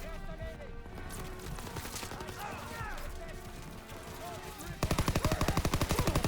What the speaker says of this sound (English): Some automatic weapons.